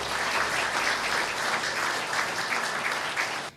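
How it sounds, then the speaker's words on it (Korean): A hall audience at a memoir publication ceremony breaks into full, dense applause that holds steady and then cuts off abruptly at the end. "회고록 출판 기념회를 여러분의 큰 박수로"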